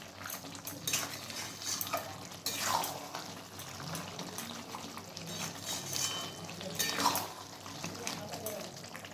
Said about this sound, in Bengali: আবার আমি মাংসটাকে ভালোভাবে নাড়াচাড়া করছি।